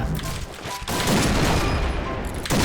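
Rapid gunfire in an online shooter game, dense overlapping bursts of shots and booms filling the short stretch, with sharp breaks between volleys.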